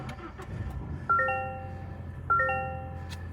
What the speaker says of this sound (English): So just give me a second as we start this truck up.